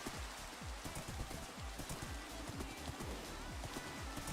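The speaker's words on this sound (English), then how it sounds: "Oh, it's raining." Rain in a video game falls as a soft, continuous patter of drops, quiet and steady throughout with no other sounds.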